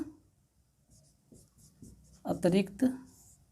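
Math being written on a board in a class 10 lesson: short scratchy strokes in quick succession, followed by a brief burst of speech.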